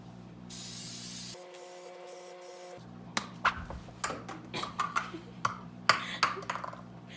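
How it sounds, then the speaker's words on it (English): Cooking spray hisses from an aerosol can onto cake pans in two sustained bursts, followed by light clinks and taps of the pans being handled nearby, with no talking. "And I'm going to spray them because that'll take way too long with butter."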